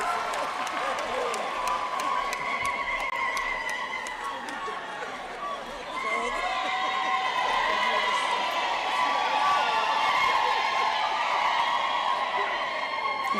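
Graduation ceremony crowd cheering and shouting for a graduate, a sustained loud wash of voices and whoops with scattered claps, steady throughout.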